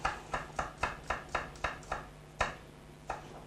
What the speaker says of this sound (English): So I'm cutting the garlic in small pieces, as we always do.